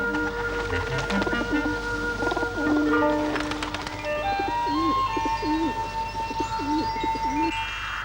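Pigeons cooing nearby in a series of soft, rolling, repeated coos, heard under a bright whistled or tinkling tune that carries throughout.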